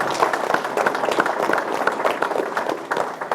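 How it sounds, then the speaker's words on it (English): An audience at an evening event applauds the organizer, steady dense clapping from many hands filling the room at an even level throughout. "Can we also give him an applause?"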